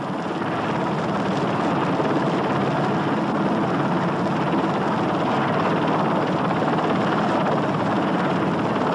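Steady, loud rotor and engine roar of a helicopter and an ultralight aircraft flying together overhead during in-flight refuelling, continuous throughout with no breaks and no voices.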